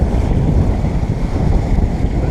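Wind buffets a sailboat at sea in waves about a metre and a half high, a steady loud rushing roar with continuous low-frequency wash and no voices.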